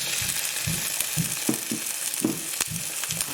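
Garlic and ginger paste hits hot oil in a pan, frying with a loud continuous sizzle and repeated spitting pops and bursts, close and alone.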